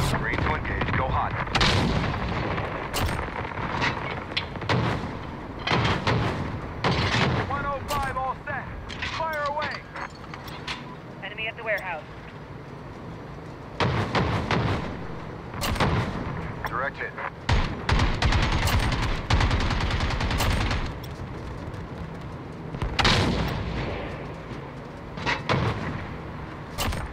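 Heavy AC-130 gunship cannon fire in Modern Warfare 2019, booming shots landing in irregular clusters with pauses between, while radio-style voices talk over the barrage.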